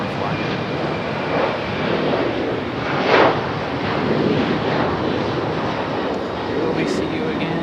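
Alaska Airlines jet departing Raleigh-Durham International toward Seattle, its steady broadband engine roar and rushing noise filling the whole stretch, with a brief swell in the middle and wind buffeting, while a person talks over it.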